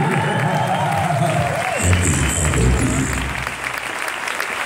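A crowd at an Italian voice and art event in Turin breaks into applause with some cheering, close, dense clapping under a speaking voice at first, swelling briefly midway before easing off toward the end.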